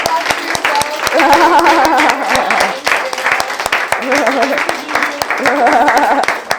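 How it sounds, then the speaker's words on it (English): An audience at an artist talk gives a round of applause for a women's collective, with dense, fairly loud clapping under raised voices and cheering. "let me just give a round of applause to all the women from Malidoma"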